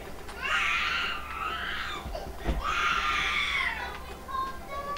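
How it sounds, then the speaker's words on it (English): A baby screams in two long, loud, high-pitched bursts close to the microphone, with short breaks and a quieter cry near the end, heard over steady room noise. "Sorry about the screaming baby."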